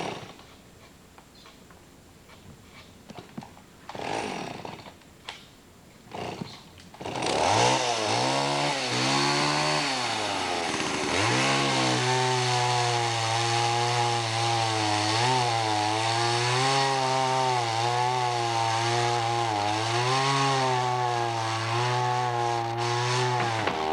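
A chainsaw-like blade saw starts after a few quiet seconds of knocking, then roars loudly and steadily close by, its pitch dipping and rising as it bites into wood, continuing for over fifteen seconds.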